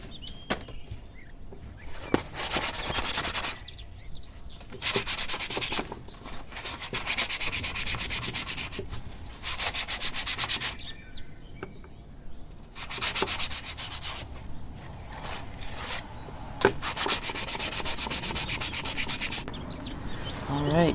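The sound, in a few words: sanding lilac wood spoon with 220 grit sandpaper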